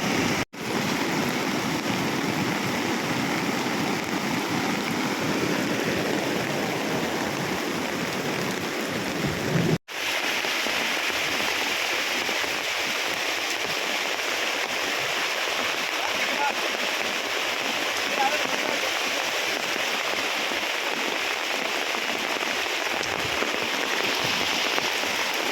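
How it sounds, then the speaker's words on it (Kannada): Floodwater rushing down from a ghat section during heavy rain at Charmadi, a loud, steady broadband roar of water and rain that persists unbroken, with voices talking over it. "ಘಾಟ್ ಸೆಕ್ಷನಿಂದ ನೀರು ಬರ್ತಾ ಇರೋದು"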